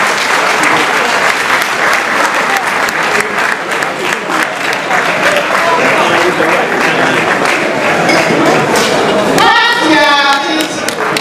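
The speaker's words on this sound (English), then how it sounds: "shall we give a warm applause as we present T.T. Brothers with our acknowledgement" Warm applause at a 50th anniversary Thanksgiving banquet, a loud, dense, sustained round of clapping filling the hall, with a few thumps and faint voices mixed in near the end.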